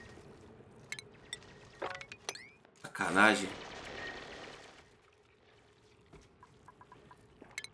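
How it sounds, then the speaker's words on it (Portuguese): A game character urinates into water in Oxygen Not Included, a brief pouring, splashing stream lasting about two seconds amid light game sounds and a short spoken remark. "Você mijou na água aí"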